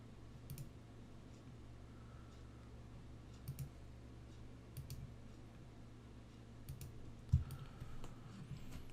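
Sparse, faint computer mouse clicks come in small clusters against a quiet room hum while someone works on removing an image background in Photoshop.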